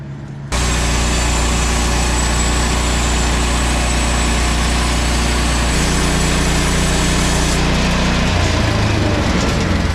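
Woodland Mills HM-130 MAX sawmill engine kicks on abruptly and runs steadily while slowly cutting cedar lattice strips, its load shifting in a couple of steps partway through, loud and close with no talking.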